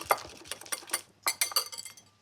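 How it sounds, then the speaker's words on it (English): Whisk clinking rapidly against a bowl while pecorino and egg are beaten together, a quick run of close, bright metallic taps in two bursts with a short pause between. "Grab a whisk and then combine all of that together"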